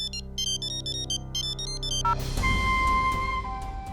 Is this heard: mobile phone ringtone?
yes